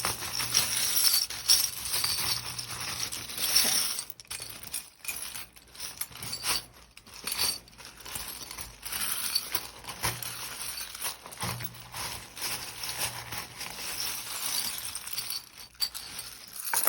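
Small metal and glass charms cast and tumbling together for a divination reading, a continuous light clinking and jangling with a few brief pauses, close and fairly quiet, with no talk.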